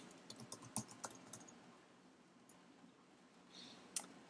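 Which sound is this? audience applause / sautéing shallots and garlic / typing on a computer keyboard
typing on a computer keyboard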